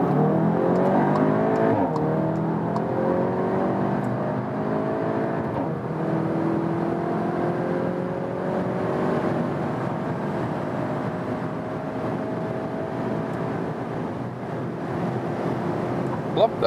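A 300 hp 2021 Cupra Ateca with a DSG gearbox accelerates at full throttle from about 40 km/h, its engine note climbing steadily in pitch through the gears under heavy wind and road noise from inside the cabin.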